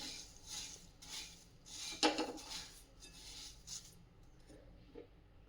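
Puffed rice (churmure) being dry-roasted and stirred in a pan over slow to medium heat, a quiet scraping and rustling with light metallic clinks and one sharper knock, close by.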